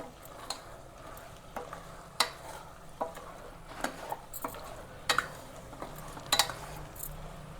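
Mutton pieces stirred in a hot pan with chili powder, salt, turmeric and ginger garlic paste, a soft steady sizzle under repeated clinks and scrapes of a spoon against the vessel, no talking.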